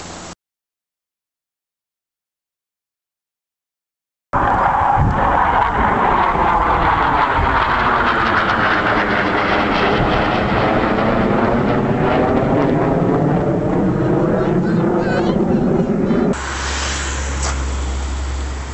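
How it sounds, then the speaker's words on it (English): Airplane flying low over a lease on its approach path, a loud continuous roar that sweeps downward in pitch as it passes close overhead, starting abruptly after a silent gap and fading slightly at the end. "There's a plane coming in over lot 5182"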